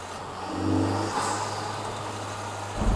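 An Acura Integra Type S with a turbocharged engine and stock exhaust cruises on the road, its engine note rising briefly then holding a steady mid-pitched drone, with no talking.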